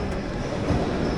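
The Kakinada Port - Sainagar Shirdi Express sits at a railway station, its steady, loud rumble filling the space with a constant wash of rail noise and no speech.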